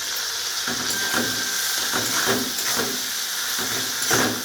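Ginger-garlic paste goes into a hot pan of oil while cooking aloo phulkopi. It makes a constant hiss and steamy sizzle, with soft rhythmic stirring or scraping pulses underneath and no voices.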